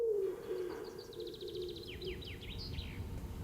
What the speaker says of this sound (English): Even in this place, I still hear wood pigeons.